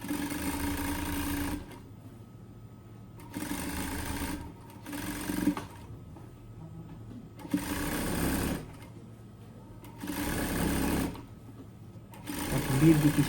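A sewing machine stitches a tracksuit seam from the inside, running through the crotch seam allowance, in loud close bursts of steady whirring separated by short quiet pauses, about six runs in total.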